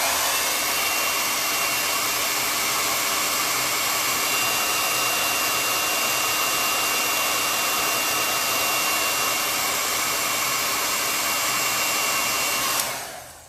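A hair dryer blows continuously and loudly close by, drying chalk paste ink on fabric, a steady roar holding for over twelve seconds before cutting off abruptly at the end.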